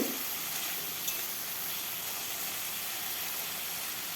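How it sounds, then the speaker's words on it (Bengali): Crabs frying in hot mustard oil in a wok, a steady, even hiss of sizzling that holds close and moderately loud, with no spoken voice. "এইভাবে উল্টে পাল্টে ভেজে নেব"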